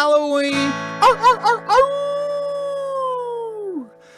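A long, wavering howl sung in a Halloween song, rising in pitch, then breaking into four short yelping pulses before one sustained note glides downward and fades, loud and close with no speech.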